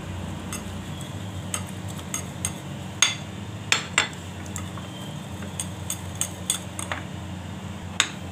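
Spiced batter for dahi bora, seasoned with cumin powder, black pepper and salt, is mixed with water in a bowl, giving a run of light clinks and taps from a utensil at an uneven pace over a low steady hum.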